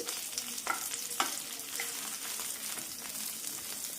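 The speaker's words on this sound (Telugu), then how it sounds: "పచ్చిమిరపకాయలు వేపేటప్పుడు జాగ్రత్తగా వేపుకోవాలి" Green chilies fry in a pan for a chutney. A continuous close sizzle runs throughout, with a few sharp pops and stirring scrapes near the start.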